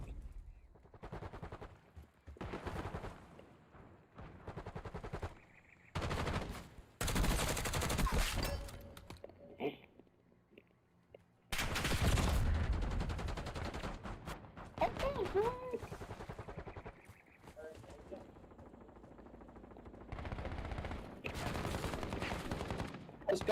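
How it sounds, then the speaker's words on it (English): Automatic weapon fire in the shooter game Call of Duty: Black Ops 6, loud sustained bursts and rapid rattling volleys broken by short pauses, with a player talking over parts of it. "I shot him like 20 times."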